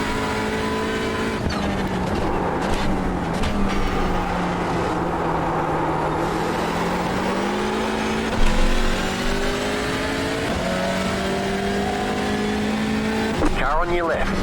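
Hyundai Elantra TCR race car engine droning steadily through a race, with rising and falling pitch as it works through gears, under a driver's radio talk.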